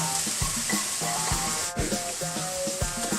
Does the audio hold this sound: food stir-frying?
yes